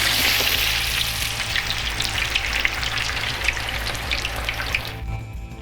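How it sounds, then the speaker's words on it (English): Potatoes for hash browns frying in hot oil, a loud, dense, close crackling sizzle that carries on steadily and then drops away sharply near the end, with no voices. "it's a good idea before you dump all these potatoes in, to just put one in first and try it out a little bit and see how good the oil is."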